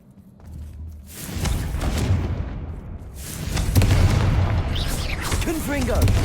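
Confringo fire spells burst in the Hogwarts Legacy video game: heavy booming blasts with a rumbling low end, one after another in a loud, crowded stretch, while a voice speaks over the explosions.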